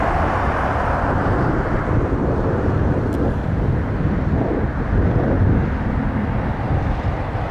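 Jet aircraft taking off at Toronto Pearson airport, a loud, continuous broadband roar that holds steady throughout, heard alone without talk.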